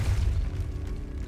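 The Depulso spell being cast in the Hogwarts Legacy video game, a short deep booming thump at the start that rumbles away over about a second.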